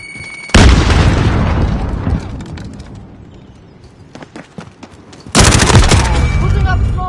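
Two loud bursts of Call of Duty combat: a grenade blast near the start and another heavy burst near the end, with booming explosions and rattling gunfire, separated by a quieter stretch of scattered shots.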